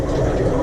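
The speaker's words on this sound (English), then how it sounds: "Then you just hold down your flush" A toilet flushing as its tank drains during a flush valve replacement: a loud, steady rush of water close by that runs unbroken throughout, with no voices.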